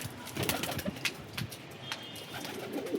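Domestic pigeons coo softly and steadily among wide-band rustling and outdoor noise, with no speech.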